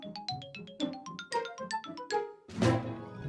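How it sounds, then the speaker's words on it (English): The Nintendo GameCube startup sound: a bright sequence of quick chiming synth notes tumbles downward in a playful melody, then ends on a swelling, shimmering chord with a rich low tone. "Normally, you'd boot up the console and hear this."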